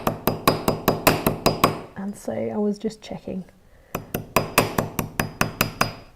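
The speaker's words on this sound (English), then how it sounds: "So again, I'm hammering away the borax." A hammer strikes borax on a jewellery workshop bench in quick, steady metallic blows. The blows pause while a person speaks briefly, then resume at the same brisk pace.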